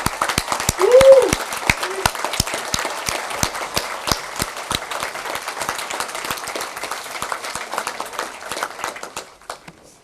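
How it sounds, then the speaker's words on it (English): A crowd at a 2013 Memorial Day event applauds military veterans with crisp, close claps, loud at first, then thinning out and fading over about ten seconds, with a brief cheer near the start. "all of us to give them another round of applause for their service"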